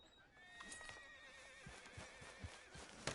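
A horse in Red Dead Redemption 2 whinnies with long wavering high tones, joined by soft clip-clopping hoofbeats and a faint game ambience underneath.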